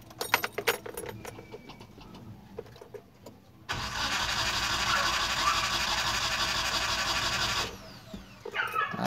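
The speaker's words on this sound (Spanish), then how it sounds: "Y vamos a dar marcha." A car engine is cranked by the starter for about four seconds, a loud steady grinding churn before it cuts off, following keys jangling and workshop clatter. The engine is slow to start.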